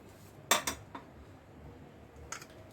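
Chickpeas dropped into a metal pressure cooker give a few sharp clinks and a short rattle, one pair close together, another soon after, then a lone clink a moment later over a quiet kitchen.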